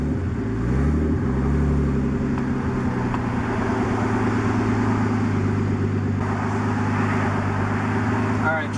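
A modified car with an open downpipe exhaust revs and pulls away on a road, its loud, raspy engine drone rising in pitch and holding steady throughout, with passing traffic noise around it.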